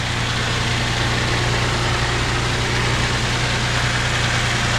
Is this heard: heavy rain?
no